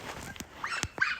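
A small dog gives a few short, high whimpers and squeaks, close and fairly quiet, spaced irregularly across about a second.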